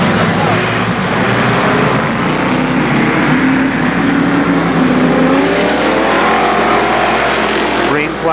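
Race cars roar off the start of a six-lap heat race on a speedway, a loud, dense engine drone that climbs in pitch as they accelerate, heard close with an announcer talking over it throughout.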